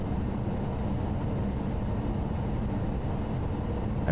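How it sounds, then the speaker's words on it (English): A train rolls along the Cologne high-speed line in Train Sim World 2 with a constant low rumble and drone at an even level, near and uninterrupted. "So I may just let the train roll."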